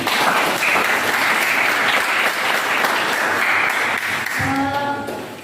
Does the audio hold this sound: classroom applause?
yes